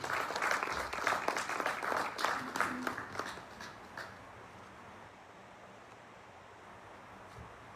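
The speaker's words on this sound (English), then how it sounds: "Can I please ask you to give him a round of applause" An audience claps for about four seconds, the applause fading out into a quiet room tone.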